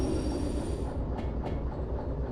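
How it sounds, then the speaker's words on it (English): A train in the railway simulator game Derail Valley rolls along the rails with a dense, loud, continuous rumble and rhythmic wheel clatter, close and without speech. "I can actually now stop the train"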